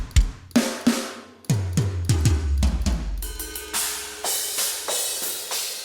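Brutal metal drum kit with dirty, broken cymbals, including a beat-up stack and cracked china: punchy kick and tom hits with deep decaying booms, sharp snare cracks, then washy trashy cymbal crashes filling the last few seconds.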